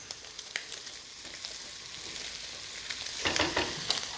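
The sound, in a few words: mushrooms frying and sizzling in pan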